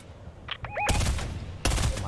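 Gunfire in a video game: after a few faint clicks and a rising whistle, a loud sharp shot bursts out and rings for most of a second, then a second heavy shot follows soon after.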